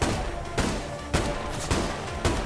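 Shotgun blasts in the video game Survarium, five heavy reports spaced about half a second apart, each followed by a short ringing tail.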